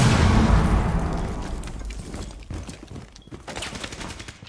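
Rapid gunfire from the video game Rainbow Six Siege, loudest at the start as a dense burst of shots that fades into scattered pops and echoing reports.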